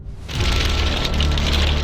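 Heavy rain pounds down during a convective storm in Daishan county, Zhejiang province, China, starting abruptly and holding as a loud, even hiss of drops on surfaces.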